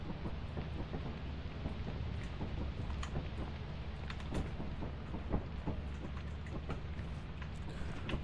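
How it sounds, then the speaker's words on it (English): Pouring rain and thunder in the video game Lethal Company make a dense, even hiss of heavy downpour with scattered crackling drops and low rumbles underneath, steady throughout and free of talk. "It's pouring rain now on the map."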